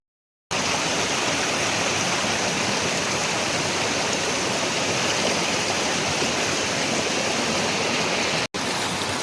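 A forest stream in dense jungle flows in a steady, close rush of water that starts after a brief silence and carries on evenly, with one short dropout near the end.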